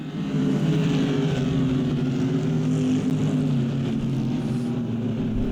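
Lexus and Corvette GT race cars running close together at the Bahrain circuit, a loud sustained engine roar that swells in at the start and holds steady as they pass nearby, with no talk.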